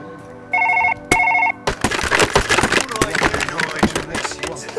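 A telephone in Surgeon Simulator 2013 rings twice in short electronic bursts, followed by a busy clatter of in-game objects knocking and dropping.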